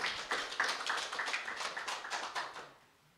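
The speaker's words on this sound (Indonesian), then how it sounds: "Tepuk tangan yang meriah." An audience at a public debate for regency election candidates gives a quick, crisp round of clapping that fades out after a few seconds.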